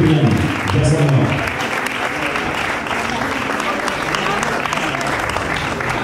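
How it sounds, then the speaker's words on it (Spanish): Applause from an audience at an award presentation at a jazz art exhibition, a steady broadband clatter of many hands filling the room, with voices talking over it at the start. "Como que ese aplauso no está a la altura del reconocimiento para Yasamor."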